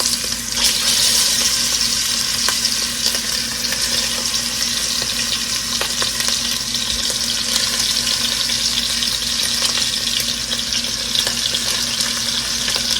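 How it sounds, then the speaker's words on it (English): Meat sears in a little vegetable oil in a pan with a steady, dense hiss and crackle. The sizzle is close and loud and runs without a break, with no talking. "We're just gonna sear them off just a little bit"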